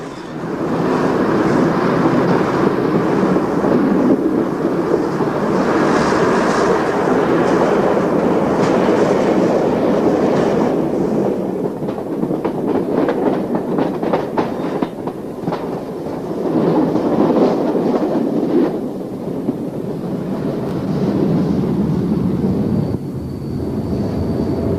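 A train rumbles steadily through Falsgrave Tunnel into a platform at Scarborough Central Station, wheels clacking over rail joints and carriage noise echoing, with brief squeals near the end as it slows.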